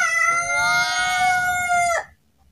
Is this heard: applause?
no